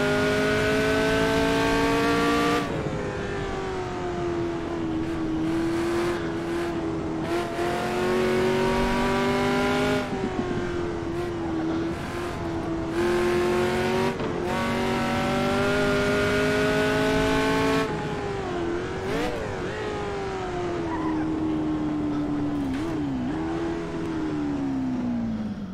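A race car engine from the AC Legends prototype mod in Assetto Corsa, a period-era car, drones loud and close for the whole run, with sustained high revs, gear shifts and rising and falling pitch as it accelerates and brakes.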